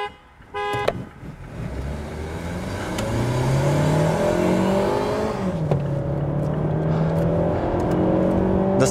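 Toyota Camry 2.5 and a Mazda 2.0 accelerating hard from a standing start in sport mode, a brief beep first, then loud engines rising in pitch continuously with a gear change partway through.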